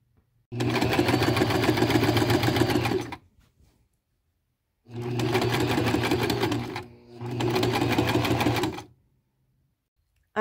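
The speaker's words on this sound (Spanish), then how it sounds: "Le voy a poner los alfileres y paso a la máquina de coser." Sewing machine stitching the side seams of a huipil: a steady, fast mechanical whir in two bursts, about three seconds, then four seconds with a brief dip in the middle, close and clear.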